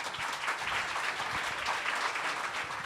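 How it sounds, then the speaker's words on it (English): An audience at a Fnac Montparnasse masterclass breaks into warm applause, a dense, steady wash of many hands clapping for a few seconds without any voices on top. "Je vous demande d'applaudir très chaleureusement Sofia Coppola."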